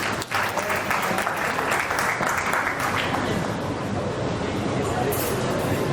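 An audience gives loud, steady applause to welcome a guest, Dr. Lalit Bhan, at an event: dense, continuous clapping that fills the space evenly for several seconds without pause.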